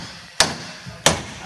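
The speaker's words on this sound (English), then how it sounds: "Sits in there like this, so we just gotta hammer that out." Two sharp, loud hammer strikes land about two-thirds of a second apart, driving a pressed-in clutch throw-out bearing out of its housing.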